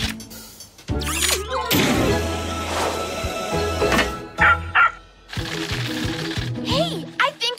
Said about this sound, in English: It's a dog! It's a robot! A robot dog!